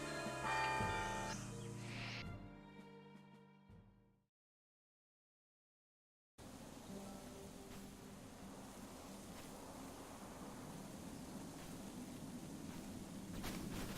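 Bell tones from a bell tower in the video game The Lord of the Rings Online, Wildermore, ring out with a clear harmonic decay, fading into silence, then a steady washy rumble of wind or ambient noise fills the rest.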